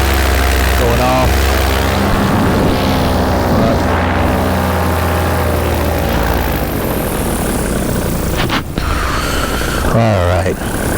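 A small aircraft engine drones loud and steady in flight, a continuous propeller roar that fills the cabin, with a voice speaking briefly over it.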